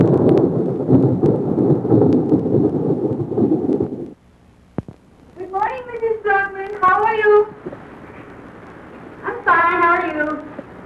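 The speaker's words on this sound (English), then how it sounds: "just listen to that thunder" A broad, heavy rumble of thunder rolls for several seconds in Africa, then fades into quiet before people start talking.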